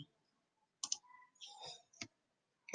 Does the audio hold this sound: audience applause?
no